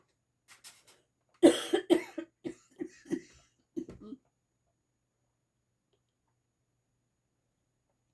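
A few soft breaths, then a close fit of repeated coughs in quick succession, ending with a final rough cough before silence.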